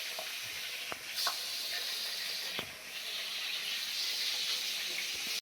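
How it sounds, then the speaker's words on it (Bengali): Hilsa fish heads frying in oil give off a steady, dense sizzle and hiss that stays close and even throughout, broken by a few brief spatters and stirring clicks, with no voices. "এই যে মাথাগুলো ভেজে নেবো এবারে, দুটো দুটো করে দিতে হবে, দিয়ে মাছটা ভেজে নিতে হবে ভালো করে"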